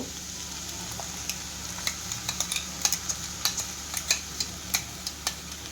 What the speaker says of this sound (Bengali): এই পোস্তটা দিয়ে ভালো করে মিশিয়ে নেবেন।